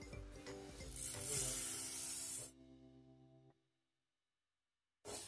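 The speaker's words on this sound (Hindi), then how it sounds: "अब इसको घी के साथ हम भून लेंगे" Washed mung dal roasting in ghee, a bright crackling sizzle under a low steady background hum for about two and a half seconds, then quieter clatter before the sound cuts to silence and returns briefly at the end.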